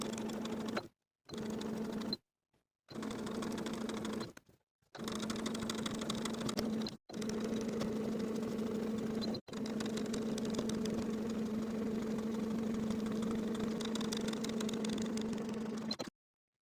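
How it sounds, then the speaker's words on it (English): A sewing machine edge stitches hem tape along the neckline of a V-neck boho top, its close mechanical hum running in several bursts separated by short pauses, then one long continuous run. "I'll just place it along that neckline and edge stitch first along the outermost edge all the way around from center front to center front"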